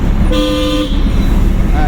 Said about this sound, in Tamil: ஹார்ன் அடிச்சுக்கணும்